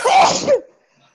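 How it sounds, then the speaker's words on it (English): A single loud, close sneeze, a sharp burst with a short follow-through that quickly fades to silence. "That was a healthy sneeze."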